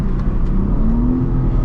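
A BMW M3 CS with turbo lag revs hard while braked for a launch. Its engine makes a close, continuous drone that climbs steadily in pitch with no talk over it.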